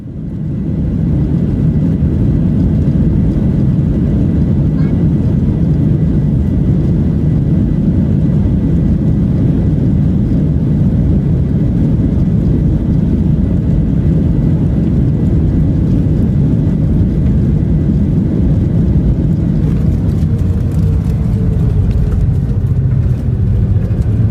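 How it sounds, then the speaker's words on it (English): Boeing 737 jet engines roaring steadily at high power during an aborted takeoff from Brazil, a loud continuous low rumble close by that holds for the full stretch, with a slight shift in tone near the end. "This Boeing 737 suffered technical problems during its takeoff from Brazil and had to abort."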